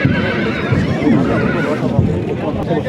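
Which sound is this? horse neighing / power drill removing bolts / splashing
horse neighing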